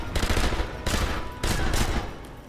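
Thompson submachine gun fire in the shooter game Sniper Elite V2 comes in loud rapid bursts, three close volleys of automatic shots separated by brief pauses.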